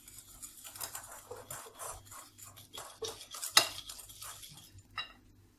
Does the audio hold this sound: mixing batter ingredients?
yes